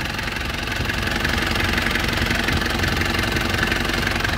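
A 1994 Isuzu Panther Hi Grade with a 2.3 diesel engine idles close by, a steady knocking clatter with an even rhythm and no speech.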